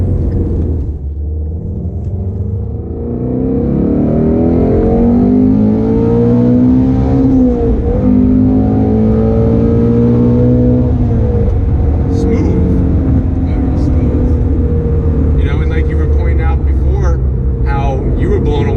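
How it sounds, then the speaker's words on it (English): A 2016 Shelby GT350 engine roars loudly, rising and dipping as the throttle is blipped during heel-toe downshifts, with a person talking over the steady drone. "With the heel toe and everything, you can blip the throttle nice."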